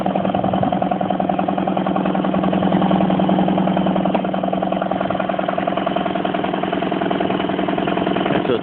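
A rebuilt air compressor salvaged from a metal yard runs after being switched on, giving a steady, even mechanical hum and drone close by that stays constant throughout.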